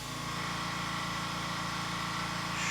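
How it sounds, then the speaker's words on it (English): An air compressor runs steadily beside a scale model build of a P-38L Lightning, a constant mechanical drone with a low hum and a higher whine that holds throughout without pause. "Shut up, compressor."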